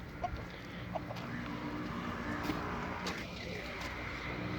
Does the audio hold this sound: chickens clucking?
yes